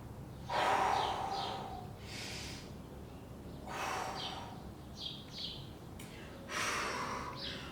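Heavy breathing during a beginner's low-impact workout with light dumbbells, several loud sharp inhales and forceful exhales in uneven bursts, close to the microphone, with no talking.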